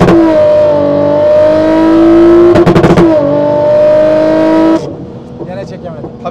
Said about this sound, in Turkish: bu bildiğin yarış arabası sesi